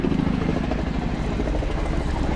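RAF Chinook HC6 twin-rotor helicopter coming in to land at an air display, a loud, close, continuous rotor thump and engine roar filling the whole moment.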